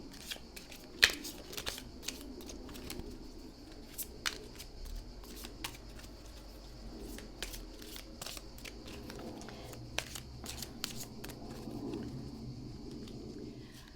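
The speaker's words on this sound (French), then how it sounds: "et moi je continue de brasser les cartes" Tarot cards are shuffled by hand in steady, quick riffling flicks and soft slaps that continue for the whole stretch, close and fairly quiet, with no talking.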